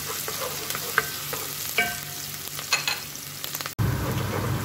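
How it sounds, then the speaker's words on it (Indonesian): Shallots and garlic frying in hot oil, a close, steady sizzle with scattered stirring scrapes and clinks against the pan, then a brief cut into a louder, fuller sizzle. "Ini minyak udah panas, saya tumis bawang merah, bawang putihnya dulu."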